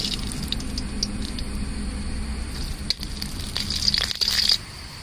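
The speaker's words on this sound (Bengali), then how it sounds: "ঘিটা গরম হয়ে গেছে, এবার কাজুগুলো দিয়ে ভেজে নেব।" Cashews dropped into hot ghee in a wok give a steady low sizzle with bright crackling spits that build and grow louder toward the end, close and clear with no voices.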